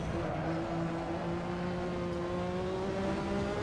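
A 1960s F1 car boosted to 1200 BHP in a racing video game, engine droning loud and close with steadily rising pitch as it accelerates hard, wheels spinning up.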